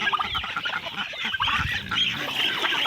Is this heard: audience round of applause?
no